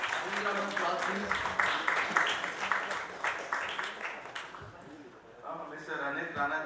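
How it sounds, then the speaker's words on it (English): Audience applause at a conference felicitation ceremony on stage, a steady crowd clapping that fills the room before thinning out near the end. "Round of applause, please."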